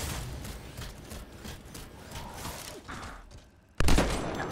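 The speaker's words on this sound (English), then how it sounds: "I love this sniper rifle." A sniper rifle fires repeatedly in the video game Anthem as a series of sharp, moderately quiet shots, ending with a louder, closer blast near the end.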